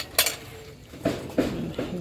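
Plates clinking and clattering as they are set out for a home meal, a few separate knocks of dishes and cutlery spaced over a couple of seconds, moderately near with a quiet room behind.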